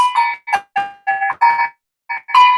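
Cowbells struck one after another in an irregular rhythm during a live percussion storytelling performance, giving bright metallic clanks with short ringing decays and brief silences between hits.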